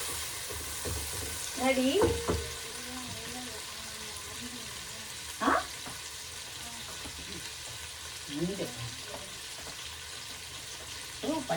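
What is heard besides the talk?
tomatoes frying in a pan for mutton biryani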